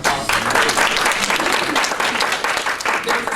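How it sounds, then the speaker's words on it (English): A roomful of guests at the Manatee County NAACP breakfast applauds a speaker, with loud, dense, sustained clapping that holds for several seconds. "I think you can give her a round of applause"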